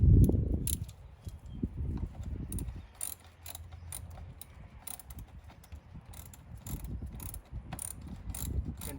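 Ratchet wrench tightening a car battery terminal clamp, with repeated close clicking strokes that rise and fall steadily across the clip, and a louder knock at the start.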